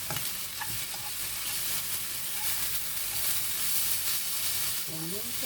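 Garlic and filling simmering and being stirred in a pan, a soft continuous sizzle with scraping stirs, fairly quiet, with a brief voice near the end.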